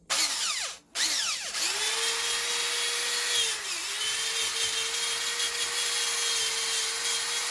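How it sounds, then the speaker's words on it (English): A drill spins up and runs a wire brush across a cast iron pot, a harsh scraping whir with a steady motor whine after a brief stop-start. "I take this wire brush on my drill and clean it that way."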